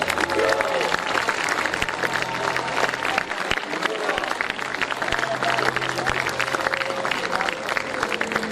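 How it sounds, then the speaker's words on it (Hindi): An audience at an annual sports club function applauds steadily, a dense roar of clapping running throughout while someone speaks over it. "तालियां बजाते रहे।"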